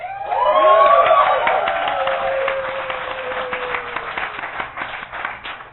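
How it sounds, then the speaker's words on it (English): A live studio audience in a New York City venue breaks into sustained applause, dense clapping mixed with a few whoops that swell loud at the start, then thin gradually over several seconds, with no one speaking. "please give yourselves a round of applause"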